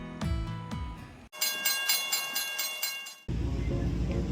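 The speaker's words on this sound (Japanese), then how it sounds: "併用軌道に貨物列車がやってきたようです。" A freight train rumbles past at close range on street-running track in La Grange, Kentucky, with rhythmic rail clatter, the sound shifting abruptly between sections as it goes by.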